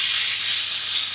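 A thick beef steak sears in a hot pan, giving a continuous loud, bright sizzle with no pauses and no voices.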